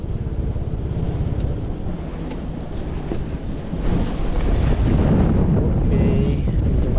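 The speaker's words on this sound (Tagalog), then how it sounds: "Medyo malakas ang hangin." Strong wind blowing by the sea, with large waves, roars steadily and loudly into the microphone, a dense rumbling gust that swells stronger midway and stays heavy to the end.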